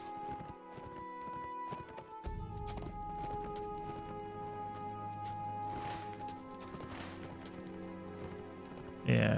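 In the game LOTRO, a horse's hooves clip-clop in a steady walking rhythm, moderately quiet under game music, while someone talks over it.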